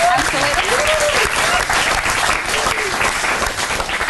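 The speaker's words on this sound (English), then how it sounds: "so that deserves a massive round of applause" A crowd breaks into loud, dense applause during an interview, sustained clapping filling the whole stretch, with a faint voice briefly audible beneath it.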